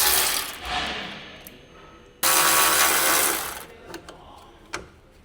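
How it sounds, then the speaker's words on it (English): An electric impact wrench with a 10 mm shallow socket spins out the grille mounting bolts on a 2006-2015 Honda Civic, giving two loud rattling bursts followed by a few small clinks, with no voices. "Use a medium 10 mm shallow socket with an electric impact wrench. Remove the grill mounting bolts."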